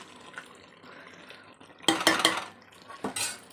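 A spoon stirs cooked dal with tamarind in a metal pot for a Telangana pappu pulusu, with scraping and clinking bursts near the end after a quieter stretch.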